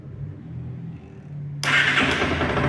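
A Bajaj Dominar 160 motorcycle, at 84,666 on the clock, cranks briefly over a low idle-like hum, then catches on the first try and bursts into a loud, steady running engine noise.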